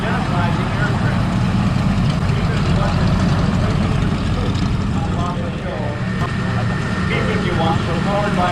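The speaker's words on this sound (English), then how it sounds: "P-51 Mustangs. As it passes in front of you, you will see the various profiles that identify the aircraft." A P-51 Mustang's piston engine drones steadily at an air show, a loud continuous roar with a rumbling low end as the aircraft passes, while a voice talks over it from nearby.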